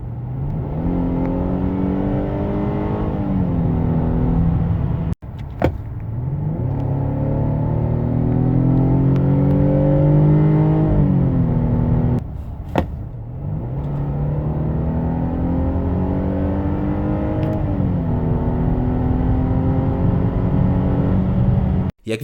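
A 2.0-litre Mercedes E 300 Coupe C238 with 258 hp accelerates hard from inside, the engine note climbing repeatedly through the gears with brief dips at each automatic shift, loud and continuous with no talking.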